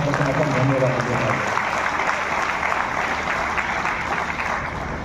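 An audience at the closing of a World Marathi conference applauds in a broad, steady wash of clapping that starts under a brief spoken voice and carries on to the end.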